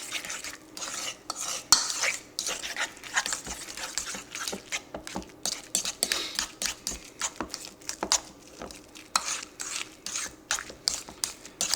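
A fork scrapes and clicks rapidly against a bowl while deviled egg filling with mayo is mashed and mixed, a steady close-up rhythm of stirring taps with no talk.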